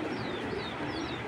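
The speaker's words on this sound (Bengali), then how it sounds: "এটা 23-এর কবুতর" A racer pigeon gives a short, soft coo, close and quiet, alone without talk.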